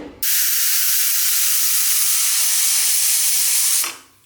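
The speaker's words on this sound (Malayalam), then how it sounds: "ഒരു വിസിൽ പോയിട്ടുണ്ട്." A pressure cooker on a gas stove releases steam through its whistle in one loud, steady, close hiss that starts abruptly, holds for about three and a half seconds and then tapers off, with no voices.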